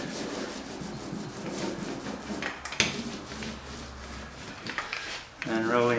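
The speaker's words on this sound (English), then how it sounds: "I'm going to come back with my roller and push it all down." A roller presses and smooths wet fiberglass cloth during the build of a PT11 boat, making a steady, close, sticky rubbing and squelching sound with small clicks and swishes along the strokes.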